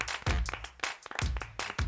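Studio audience applauding the guest Juan del Val on a Spanish talk show, a short burst of clapping mixed with voices and cheering.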